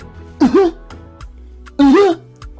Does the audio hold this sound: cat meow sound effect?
no